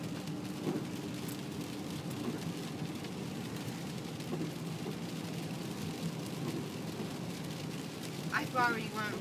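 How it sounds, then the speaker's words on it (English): Steady rain hisses throughout, a constant wash of noise with a low rumble underneath and a brief chirp near the end. "as you can see, the raindrops is coming, and I heard it's supposed to rain for hours"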